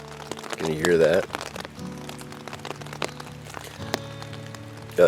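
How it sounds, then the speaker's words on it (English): Rain patters and crackles steadily on a Hilleberg Tarp 5 nylon shelter pitched outdoors under gray clouds, a close, continuous light drumming with scattered sharper taps, mixed with a low voice-like hum. "I sure hope I did a good setup because it is raining."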